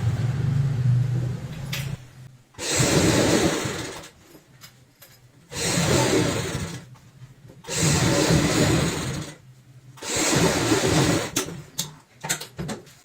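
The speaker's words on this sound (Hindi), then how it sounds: "अब हमें इसमें ऊपर से सिलाई लगानी है" A sewing machine stitches a zipper onto a bag made from old jeans, running in four loud close bursts of steady whirring a couple of seconds each, separated by pauses with faint handling clicks.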